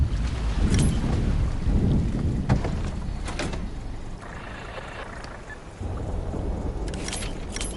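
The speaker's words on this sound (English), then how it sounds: "Pull the boat up to the dock and switch the engine off." A boat engine in the Hell Let Loose video game rumbles low and steady while docking, easing off briefly near the middle before the drone swells back up.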